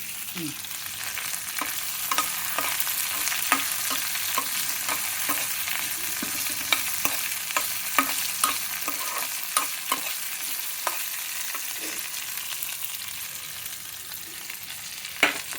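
Cauliflower frying in a pan gives a dense, steady hiss of sizzling, with frequent light clicks and scrapes from stirring spread throughout, close and continuous, and no voices.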